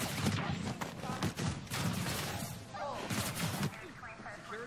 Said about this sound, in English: Okay, he was shooting.